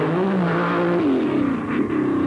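Rally car on a 1984 Costa Smeralda stage accelerating hard, its engine note climbing through the revs, dipping at a gear change and rising again, close and loud with no one talking.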